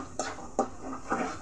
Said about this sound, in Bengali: এখন আমি সবগুলো মশলা ভালোভাবে কষিয়ে নেব।